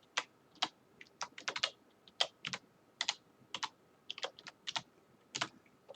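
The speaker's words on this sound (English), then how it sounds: "Now typing channel group now" Computer keyboard typing during a networking configuration lesson, crisp irregular keystrokes in quick bursts with short pauses, close and clear against a quiet background, no talking.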